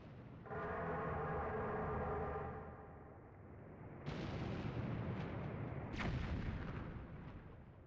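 Bombs go off in Twilight Princess HD during the Morpheal boss fight. A sustained tonal game effect gives way to two sharp, booming blasts a couple of seconds apart, each trailing into rumbling noise, with no talking.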